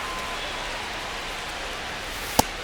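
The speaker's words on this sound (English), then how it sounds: "the field's not going to be able to hold up if the rain gets any worse than this" Steady rain falls across a baseball field in MLB The Show 25, a soft continuous hiss holding even throughout, with one brief sharp tap near the end.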